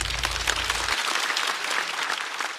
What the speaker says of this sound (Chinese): 再次掌声送给高寒。